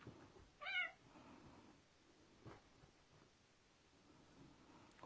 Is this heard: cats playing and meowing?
yes